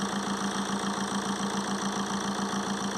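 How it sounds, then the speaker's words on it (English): A Vauxhall/Opel Insignia 2.0 CDTi diesel engine with a turbo overboost fault runs steadily at idle nearby, a constant loud mechanical drone with a low rhythmic knock and no voices. "The engine's running, so it's a little bit loud here"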